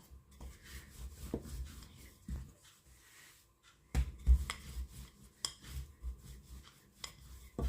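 Small dough balls being rolled out thin for flatbreads filled with egg and green onion: quiet, soft rubbing and scraping strokes with a few sharper knocks toward the end, no talking.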